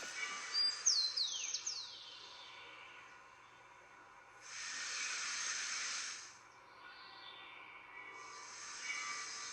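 A few bird chirps open, then a hissy processed layer swells up, drops away, and rises again as an effect is turned up and down.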